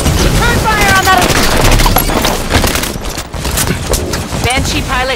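Rapid gunfire and explosions from Halo 5: Guardians Warzone multiplayer combat, a loud dense barrage of shots under game voice chatter and effects.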